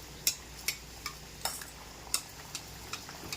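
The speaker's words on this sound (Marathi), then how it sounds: "आता त्यामध्ये लगेचच वाटीसह आपल्याला ही कटोरी अशी तेलामध्ये सोडायची आहे आणि सगळ्या बाजूने अशी तळून घ्यायची आहे" Katori chaat cups frying in hot oil on a medium flame, a low background sizzle broken by regular light clinks of a spoon ladling oil over them, about eight taps in quick succession.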